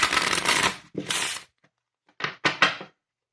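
A deck of playing cards riffles in quick papery bursts, a long shuffle followed after a short pause by a couple of shorter riffles, close and clear.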